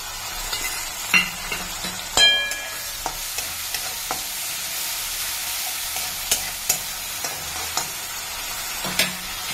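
Onions frying in a pan with garlic, ginger and green chilli paste just added, a steady soft sizzle under repeated scraping and clinking stirs at an even pace, close by with no voices.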